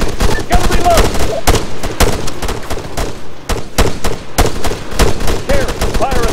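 Infantry gunfire rattles through a firefight in ARMA III, loud and close, with rapid cracking shots and bursty automatic volleys packed across the whole stretch, and shouted voices mixed in.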